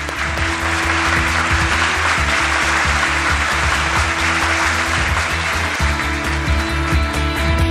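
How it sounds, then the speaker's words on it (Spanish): Studio audience applauding a game-show winner, sustained loud clapping throughout over steady low background hum and music-like tones. "Un aplauso para él."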